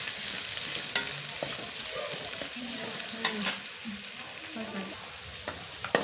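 Onions and garlic frying in oil in a pan for palak soup, a steady close sizzle with occasional stirring clicks and scrapes, plus a few faint voices in the background.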